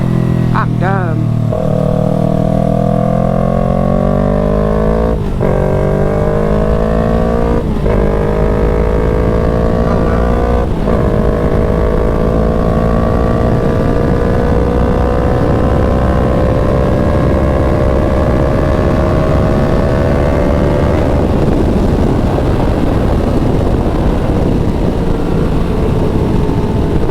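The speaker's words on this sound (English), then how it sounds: "Crispy downshifts." Car engine on an interstate at night, revving through a series of downshifts, each shift marked by a sudden jump in pitch before it sweeps down again. The steady engine drone and road rumble stay close and loud throughout.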